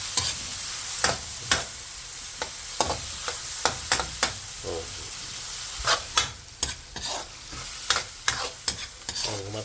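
Tomatoes sautéed in a pan for shrimp in coconut milk with squash give a steady close sizzle, broken by frequent sharp scrapes and knocks of a utensil stirring, with no talking.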